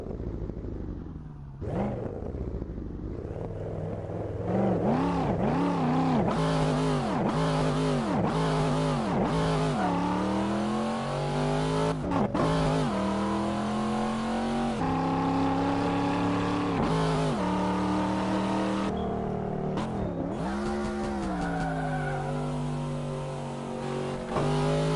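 Simulated race car engine in the Assetto Corsa racing game, revving hard through repeated loud rising and falling sweeps as gears shift and the throttle blips, with a harsh, aggressive tone throughout.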